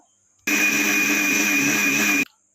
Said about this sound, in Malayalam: അതിനുശേഷം നമുക്കിത് മിക്സിയിൽ അടിച്ചെടുക്കാം.